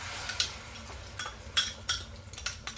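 Egg poured into a hot pan with about a tablespoon of olive oil for French toast, with light sizzling and several sharp utensil clinks and taps against the pan, close and fairly quiet.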